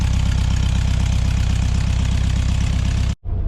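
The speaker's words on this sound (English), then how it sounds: "haven't used it and it started right up, baby. A nice cold start for y'all" A Volkswagen Beetle engine, freshly started cold after sitting unused, idles with a loud, steady, rhythmic chugging, briefly dropping out near the end before resuming.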